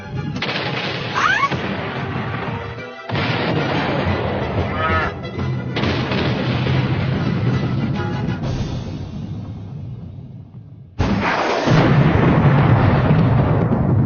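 Bombing explosions in a cartoon, loud sustained blasts and rumbling booms that roll on almost without pause, with a brief gap before a fresh heavy blast near the end.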